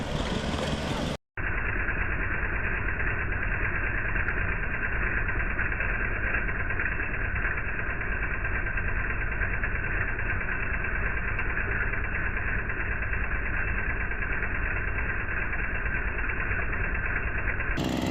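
A gold dry washer running in the desert, a steady droning engine with rattling vibration that holds evenly after a brief cut near the start, loud and close throughout.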